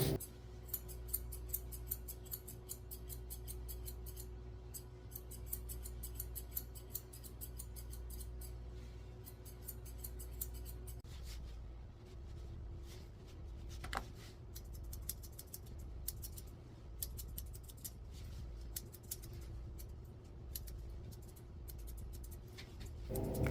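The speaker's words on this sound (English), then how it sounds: "I'm using my curved scissors to make her beard nice and round." Curved scissors snip steadily around a Bichon-Shih dog's beard during a grooming session, giving a close, quick run of small metallic cuts over a steady low hum, with no talking.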